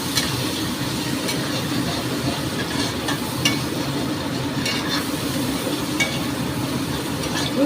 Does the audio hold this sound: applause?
no